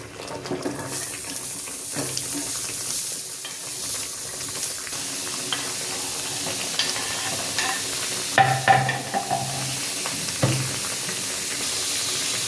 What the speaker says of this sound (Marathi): आता आपण हे कांदा आणि ते भाजून घेऊ